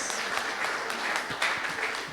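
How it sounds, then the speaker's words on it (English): An audience at a church business talk breaks into a brief burst of clapping, a dense patter of many hands close by that fills the moment without speech. "Clap for me now."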